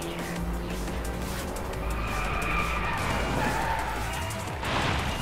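A car drifting and skidding under handbrake in a PS4 racing game, with continuous engine roar and tyre squeal throughout, swelling louder near the end.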